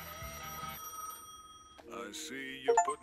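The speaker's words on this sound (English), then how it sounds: "Let's go finally answer this phone call." Telephone ringing in Gas Station Simulator, a steady electronic ring held for about a second, then a pause, then busy game sounds and a short chirping tone near the end, with a voice briefly present.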